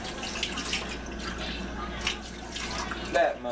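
Liquid poured out of a very full container for mixing with sugar, a steady trickling, splashing pour running continuously at close range with a brief louder gurgle near the end.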